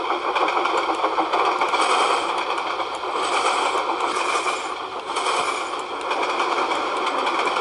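Locomotives race in the Trainz (T:ANE) video game, giving a steady, busy mechanical rumble with rhythmic clattering chuffs throughout and no talk.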